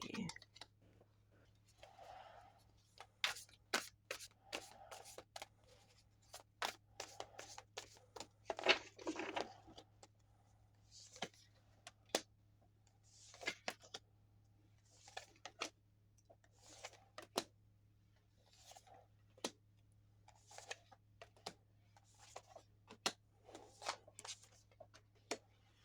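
Tarot cards are shuffled and handled by hand at close range, making sharp riffling clicks and soft papery flutters in irregular bursts over a quiet background.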